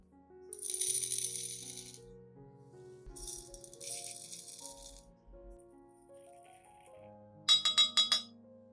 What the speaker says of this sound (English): Add 3 tablespoons of rice.